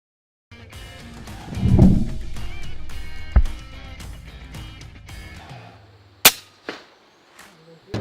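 A single sharp rifle shot cracks out near the end of a hunt aimed at rampaging monkeys in South Africa, standing clear above steady outdoor background noise and followed by a fading echo.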